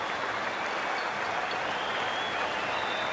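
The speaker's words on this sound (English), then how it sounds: "they'll receive a warm reception from the crowd" Steady, dense applause from a large stadium crowd in an IPL cricket video game, loud and continuous throughout with no talk over it, marking the end of an innings.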